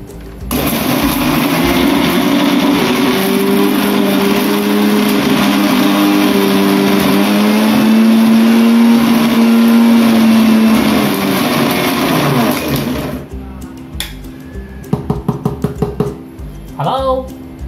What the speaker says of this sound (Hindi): चालू कर दो मिक्सर को।